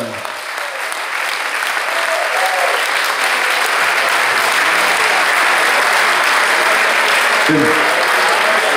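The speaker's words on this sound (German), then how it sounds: "Begrüßt mit eurem Applaus Team Bulsfahrer Tim Böhmann." An outdoor crowd at a mountain bike ultra-marathon finish in the Vulkaneifel applauds the race winner, loud, sustained clapping, mixed with faint cheering, that builds and holds throughout.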